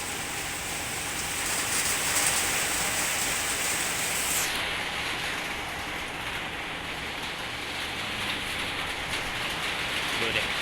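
Steady heavy rain hisses down on surfaces nearby, a continuous dense patter with no break throughout.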